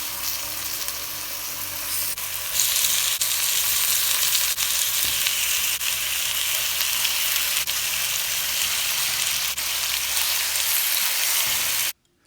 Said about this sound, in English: So let's add the oxtail.